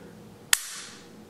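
A 5.7x28mm pistol with its magazine removed gives one sharp, close dry-fire trigger click, which rings out briefly against a quiet background.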